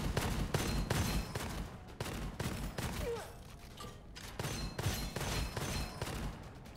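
Rapid repeated gunfire in the cartoonish shooter game Gunfire Reborn, dense bursts of sharp shots in a steady rhythm throughout, loud and close, with brief pauses between volleys.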